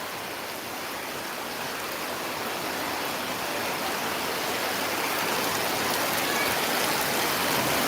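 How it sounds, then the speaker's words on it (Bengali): Heavy rain pours at the outdoor Gabtoli cattle market, a dense, steady hiss that builds slightly louder over several seconds, with no talking. "প্রচুর বৃষ্টি হচ্ছে দেখেন প্রচুর"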